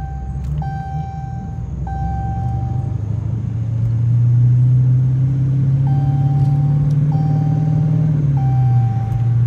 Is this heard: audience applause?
no